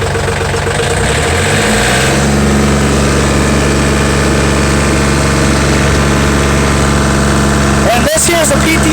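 A tractor used for road maintenance is throttled up from idle: a loud, steady engine drone climbs in pitch over a couple of seconds and then holds at higher revs, with a short clatter near the end.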